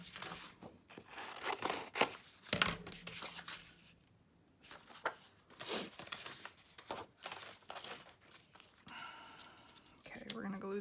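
Paper being cut for a handmade nature folio, with scattered close crisp snips, crinkles and rustles in short bursts and quieter gaps between them. Someone talks at times.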